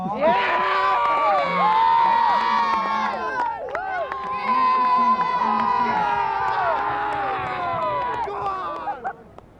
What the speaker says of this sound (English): give yourselves a big cheer, come on